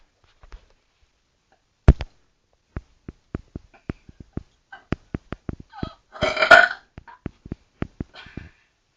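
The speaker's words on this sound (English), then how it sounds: "I'm the burping boy from Utah." A boy lets out one loud, drawn-out burp near the middle, surrounded by a scattered series of sharp clicks and small mouth noises in an otherwise quiet, close setting.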